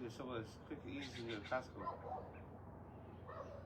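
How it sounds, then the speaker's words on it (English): A dog barks at deer outdoors, a few short yaps heard in the distance beneath a person's ongoing conversation. "Oh, the dog's barking at the deer."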